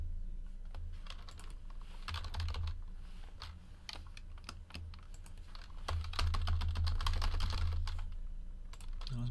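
Rapid clicking of keys on a computer keyboard, steady and close, with bursts of faster typing.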